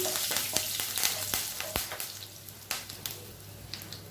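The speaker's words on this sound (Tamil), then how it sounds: "ஒரு டீஸ்பூன் ஜீரகம் சேர்த்துக்கலாம் ஒரு டீஸ்பூன் சோம்பு சேர்த்துக்கலாம் அது கூடவே கொஞ்சமாக கருவேப்பிலை சேர்த்துக்கலாம் இது எல்லாமே எண்ணெயில் நல்லா வருபடணும்" Cumin seeds, fennel seeds and curry leaves fry in hot oil for an egg curry, giving a steady close crackling sizzle with sharp pops and spits scattered throughout.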